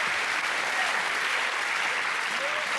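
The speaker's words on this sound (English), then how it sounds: "give him a round of applause" An audience at a televised boxing-themed talk show breaks into steady, dense applause that fills the whole stretch at an even, loud level.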